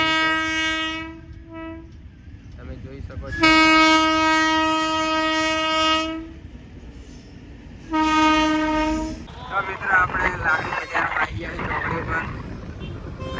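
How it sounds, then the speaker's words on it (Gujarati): A train rumbles past with long, loud horn blasts sounded twice, followed by rhythmic clattering of wagons on the rails. "તો મિત્રો રેલગાડી"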